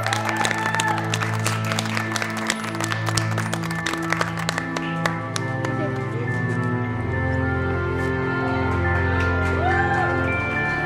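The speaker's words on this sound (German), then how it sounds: "Nochmal klatschen für Sie." A casting-show audience at Miss Germany 2022 claps continuously, with a steady dense patter of applause running throughout over background music.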